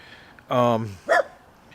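A dog barks twice, a long drawn-out bark-like howl followed by a short sharp yip, with quiet room tone between.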